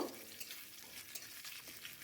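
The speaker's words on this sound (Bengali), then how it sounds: "ফোড়ন ভাজা হয়ে গেছে একটা পেঁয়াজ কোচানো দেব" Sliced onion fries in oil with panch phoron spices and a bay leaf, a soft, steady sizzle with faint stirring scrapes throughout the short moment.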